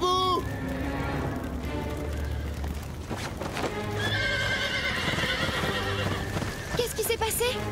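Cartoon horses whinny and neigh over steady clip-clopping hooves on a farm during a fire alarm, loud and continuous, with excited voices of animated characters calling out over the commotion.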